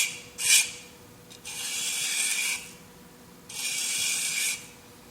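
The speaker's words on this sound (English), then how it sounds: "I just using a metal rib. You can scrape it up." A metal rib scraping dry powdered glaze off the rim of a heavy chattering-texture pottery bowl, heard as three close raspy strokes of varying length, with quiet pauses in between.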